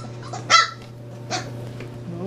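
Three-week-old puppies give a couple of short, high whimpers, one sharper and louder than the other, against a steady low hum in a quiet room.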